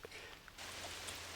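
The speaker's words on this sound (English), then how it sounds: "it is raining right now" Rain falls in the hunting game theHunter Classic, a faint hiss that swells into a denser, steady patter of drops partway through, with no speech.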